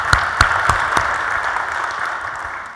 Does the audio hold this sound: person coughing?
no